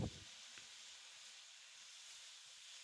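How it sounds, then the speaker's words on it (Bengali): Sour spinach lands in hot oil with five-spice, a Bengali home dish. It bursts into a brief loud sizzle, then settles into a soft, steady hiss of frying. "দিয়ে দিচ্ছি আমি টক পালং।"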